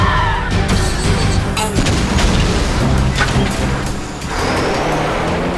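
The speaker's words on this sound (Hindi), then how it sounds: "ब्लू पल्स गन आक्रमण!" A blue pulse gun blast from an animated Hindi children's car cartoon erupts as loud booming, crashing bursts with rumbling, explosive noise rolling across several seconds, big and close, with no talk.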